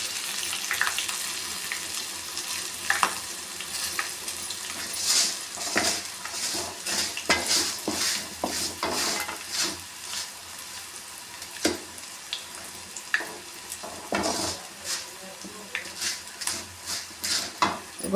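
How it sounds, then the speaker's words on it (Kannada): A whole head of crushed, unpeeled garlic fries in hot oil for lemon pickle, sizzling steadily close by while a utensil stirs and scrapes the pan in irregular clicks and taps. "ಒಂದು ಗೆಡ್ಡೆ ಬೆಳ್ಳುಳ್ಳಿನ ನಾನು ಜಜ್ಜಿಟ್ಕೊಂಡಿದ್ದೀನಿ, ಸಿಪ್ಪೆ ತೆಗೆದಿಲ್ಲ, ಹಾಗೆ ಹಾಕೋತಾ ಇದ್ದೀನಿ. ಇದು ಕೂಡ ಚೆನ್ನಾಗಿ ಫ್ರೈ ಆಗಲಿ."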